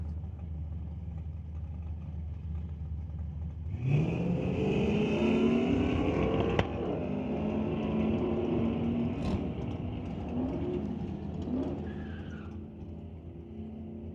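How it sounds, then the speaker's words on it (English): A Dodge and a Pontiac Firebird at a drag race: engines idle, then surge into hard revving acceleration with tire squeal as the cars launch, the roar holding loud before tapering off. "Brings up Jessica Armstrong from Badass Garage Render Racing, Home Masters team in Rhode Island, in the Dodge to race against Mark Ferguson in his Pontiac Firebird"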